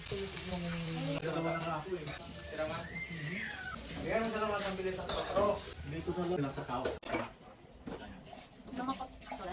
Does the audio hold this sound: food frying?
yes